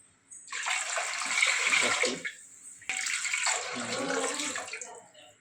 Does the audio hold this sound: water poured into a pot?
yes